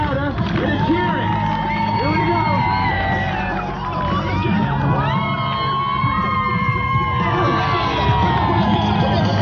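A seaside crowd at a pier stunt show in Blackpool cheers and whoops loudly, children's shouts and high yells rising over a continuous roar of voices throughout, close and lively.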